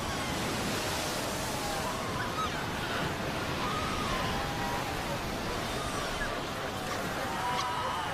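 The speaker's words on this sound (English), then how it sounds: "The pups fight desperately against the onslaught of the waves." Ocean waves surge onto a shoreline where young seal pups shelter, a steady broadband roar of surf running unbroken and fairly loud, with faint voices or animal calls threaded through the wash.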